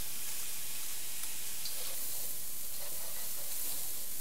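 Carrots sizzling in a hot pan, a steady, fairly quiet frying hiss throughout with faint crackles and no voices.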